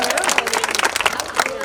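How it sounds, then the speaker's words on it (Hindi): Audience clapping at a prize distribution ceremony, a brief dense patter of many hands under overlapping voices. "तालियों के साथ स्वागत।"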